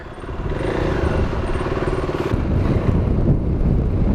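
A freshly serviced KTM motorcycle engine idles steadily and smoothly, close and loud, a constant low rumble with faint wind noise and no talk.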